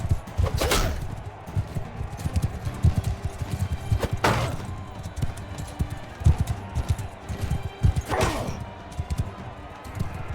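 Horse hoofbeats clip-clop steadily through a Mount & Blade 2 Bannerlord battle, fairly close and loud amid thuds and a busy game soundscape, with a few sharp impacts standing out.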